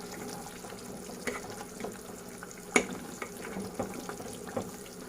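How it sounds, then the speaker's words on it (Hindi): Butter simmering in a pan as it separates into ghee, a steady soft sizzle and bubbling with occasional small pops, close and continuous. "अब ये स्लोली बटर में से घी निकलना शुरू हो गया है।"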